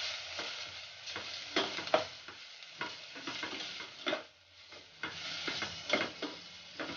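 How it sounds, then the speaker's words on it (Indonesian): Spice paste frying in a pan with bay leaves and lime leaves gives a soft sizzle broken by repeated scraping stirs, close and fairly quiet, with no voices. "Daun salam juga daun jeruk saya masukin sekalian."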